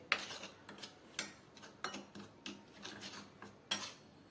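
A spoon mixing spices, salt and powdered sugar in a bowl, making a series of light metallic clinks and scrapes at an irregular, roughly half-second rhythm, close and fairly quiet with no talking.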